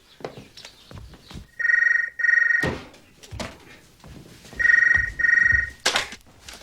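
A telephone rings in two double bursts, fairly loud and close, with a few knocks and faint talk between the rings.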